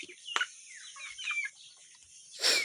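Faint, quiet chicken clucks and short squawks from a flock in the mountains come and go, with a brief louder burst at the very end.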